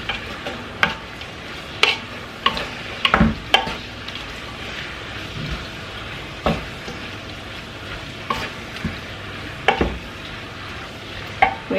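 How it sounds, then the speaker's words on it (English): Curry being stirred in a frying pot: irregular scraping and knocking of the spoon against the pot, with a soft steady sizzle underneath, close and moderate in volume. "Let's give it a stir."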